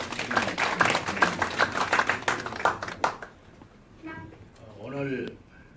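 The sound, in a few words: audience clapping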